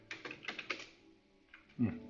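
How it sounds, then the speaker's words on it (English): Rapid keystrokes on a computer keyboard during a web development session, a burst of light clicks followed by a pause and a few more taps, with a brief thump near the end. "Now try typing now-v."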